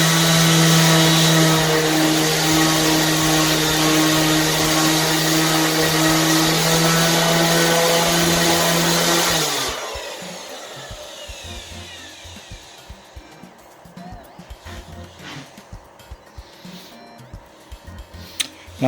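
A Ryobi RS290G orbital sander with 80-grit sandpaper works a piece of hardwood, giving a loud steady whirring drone for about nine seconds. It then shuts off and winds down, leaving quiet scattered handling knocks.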